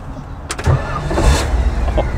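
A 1955 Chevy engine cranks and catches while hot, a brief starter burst followed by a steady running idle rumble up close, with no talking.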